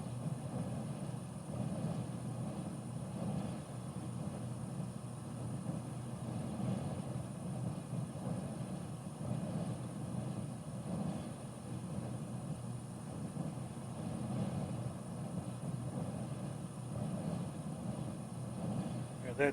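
Steady propeller airplane engine drone during cruise flight at about 200 knots in Microsoft Flight Simulator, over the French coast, a constant even hum with no breaks, alone throughout.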